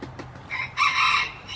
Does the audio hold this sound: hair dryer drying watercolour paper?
no